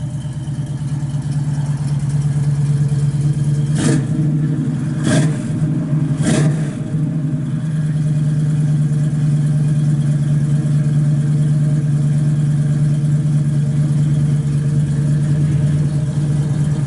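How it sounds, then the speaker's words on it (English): A 1962 Chevy II Nova's small-block V8 idles with a deep exhaust burble, then revs sharply three times in quick succession before settling back to a steady idle. "Sounds good out the exhaust."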